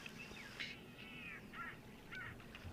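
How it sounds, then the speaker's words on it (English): Weavers and a Cape crow call at a waterhole, a few harsh, nasal, wavering calls repeating every second or so over a faint, steady outdoor background, moderately distant. "I can hear some weavers. The odd Cape Crow calling too at the moment."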